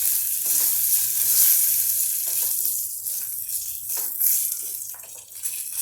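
Dried curry leaves being stirred in a hot pan, a bright crackling sizzle broken by uneven scraping strokes of a spoon, fairly close and steady throughout.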